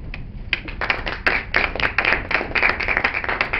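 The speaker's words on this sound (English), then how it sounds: "You guys can clap after each one" Sparse clapping from a small audience after a poetry reading, individual hand claps clearly separable and irregular, close and moderately loud.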